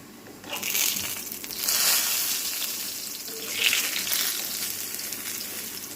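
Lentil fritters made with Bombay chilies fry in oil, giving a moderate hissing sizzle that swells in a few bursts as batter goes in and settles back to a steady bubbling crackle, with no talking.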